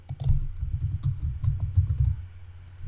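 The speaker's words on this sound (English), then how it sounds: "I'm going to type desert here" Rapid clicking keystrokes on a computer keyboard, a close, quick burst of typing lasting about two seconds before stopping.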